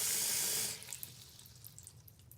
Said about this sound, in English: So we're filling the sink full of water